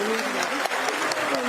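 Audience clapping at a women's honour ceremony in Haryana, a steady burst of applause with a voice speaking over it throughout.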